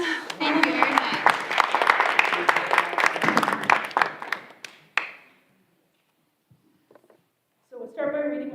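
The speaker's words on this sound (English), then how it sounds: "So round of applause." A school meeting audience gives a brief round of applause for the moderator, scattered sharp claps over murmuring voices that die away into near silence before someone speaks again.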